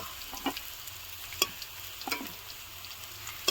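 Steady, soft sizzling of potatoes frying in hot oil, with a few faint scrapes and taps of a utensil stirring now and then.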